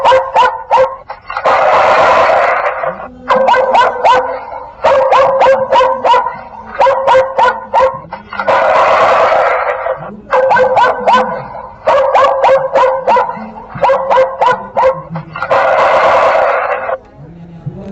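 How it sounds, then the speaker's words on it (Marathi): A solar-powered animal repeller's speaker plays recorded dog barks in repeated loud bursts of rapid yaps alternating with longer howl-like barks, filling the space with a harsh, electronic-sounding rhythm. "अशा प्रकारचे आवाज आपल्याला ऐकू येतील। कुत्र्याच्या आहेत,"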